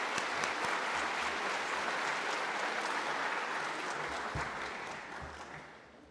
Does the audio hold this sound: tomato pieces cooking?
no